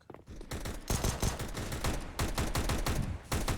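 Rapid bursts of AK rifle gunfire in the video game CS:GO, loud and close, with repeated sharp shots filling the whole clip and brief gaps between volleys.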